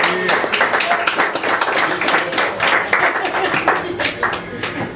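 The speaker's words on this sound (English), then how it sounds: "So I want to give them a round of applause." Audience at a small live music venue giving a round of applause, brisk overlapping hand claps at moderate volume, with some talk mixed in.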